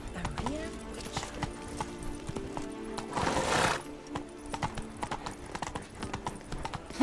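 Roach, Geralt's horse in The Witcher 3, trots with a steady clip-clop of hooves and gives a brief whinny midway, against quiet background music and a voice.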